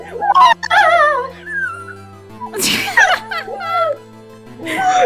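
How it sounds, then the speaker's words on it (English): A dog yips and whines in high, wavering cries, with a sharp burst partway through and people's voices around it, fairly close. "The rest of the stream is Skye fucking barking"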